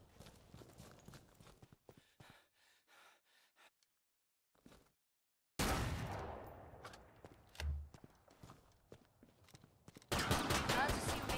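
Gunfire from a survival horror shooter, Killing Floor 2, on the Water on Mars map, played solo: sparse sharp shots early, a lull, then dense bursts of loud firing and noisy combat toward the end.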